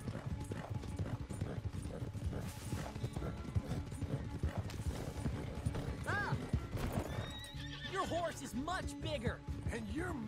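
Horse hooves galloping in Red Dead Redemption 2, a fast, steady clip-clop with several whinnies and neighs partway through, under layered game sound and music, with someone talking over it.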